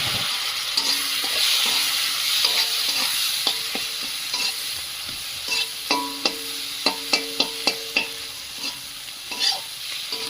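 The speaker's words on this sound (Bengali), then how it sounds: "এটাকে ভালো করে ভাজতে হবে ইলিশ মাছের মাথা তেল দিয়ে পুঁই শাকের চচ্চড়ি" A hilsa fish head frying in oil with onion for a Malabar spinach chorchori sizzles steadily while a spatula scrapes and knocks the pan in repeated sharp strokes, clustering toward the end.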